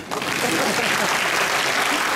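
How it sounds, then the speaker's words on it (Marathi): Dense, steady applause from a crowd of students at a parents' meeting and welcome event for newly admitted eleventh-graders, loud and continuous across the whole stretch with a faint murmur of voices mixed in. "वाजवा स्वतःसाठी टाळ्या."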